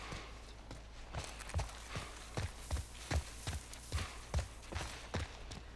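Horse hooves clip-clop in The Last of Us Part 1 video game, a quiet, steady walking rhythm of about a dozen soft thuds over several seconds.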